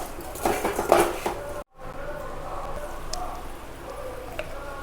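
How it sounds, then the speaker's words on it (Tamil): Banana kozhukattai are stirred in ghee and jaggery in a pan, with a burst of spoon-on-pan clatter and scraping, a brief gap, then softer intermittent stirring taps and clinks. "குளக்கட்டையோட நல்லா மிக்ஸ் பண்ணி விடுவோம்"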